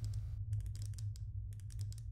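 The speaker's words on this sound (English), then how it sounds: "I like that little clicking noise when you freaking like zoom in with the flashlight" Quick light clicks sound as a flashlight zooms in the game Slender: The Arrival, a rapid irregular run of small ticks close up over a low steady hum.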